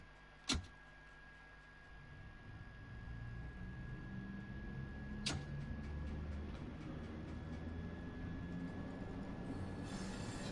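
Train Sim World 2 video game: a London Underground train rolls on rails toward Stonebridge Park, a steady low rumble with a faint whine, broken by two sharp clanks, with no talking.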